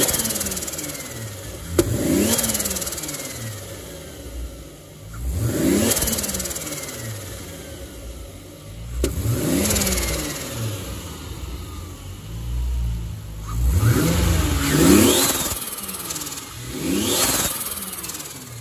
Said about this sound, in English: let's give her some quick revs